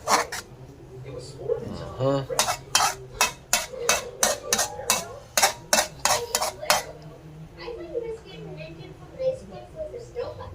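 A spoon scrapes rapidly back and forth in a pan as a thickening mixture is stirred, a quick rhythmic run of scraping strokes in the middle, with people talking before and after.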